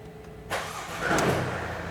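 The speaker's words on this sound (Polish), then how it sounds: "Odpalam auto." A car engine is cranked with the ignition key and fires after a brief quiet moment. It catches with a sudden loud burst, then revs up and settles into a steady running hum close by, with no speech.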